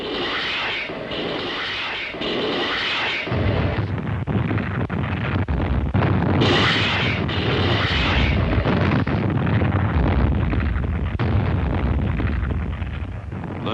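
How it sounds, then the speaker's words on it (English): A dense, continuous roar of rocket ship fire and rumbling blasts bombarding invasion beaches before a World War II Pacific landing, loud and sustained, with whooshing bursts layered over a deep low rumble. "Just before the landing, the rocket ships went to work."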